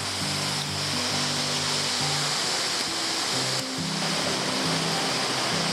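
The third tier of Kanching Waterfall pours in a constant broadband rushing roar, loud and unbroken, with faint steady low tones running beneath.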